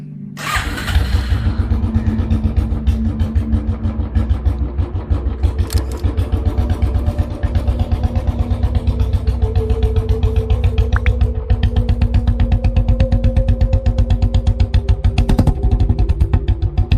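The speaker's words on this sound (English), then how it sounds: "let's place this amazing and well-detailed Royal Enfield Classic replica on the Dnation dyno and check out its wheel spin and its functionality" A diecast 1:12 scale Maisto Royal Enfield Classic 350 Stormrider Sand replica sits on a dyno with its wheels spinning, giving a steady, rapid mechanical whirring buzz with a fast pulsing rhythm that runs loudly and continuously throughout.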